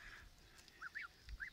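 A few short nasal honks from geese, fairly faint, coming in quick bursts over a quiet background.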